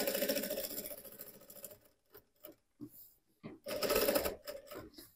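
A sewing machine stitches fabric for a backpack in loud, close runs, stopping briefly with scattered clicks of handling before running steadily again.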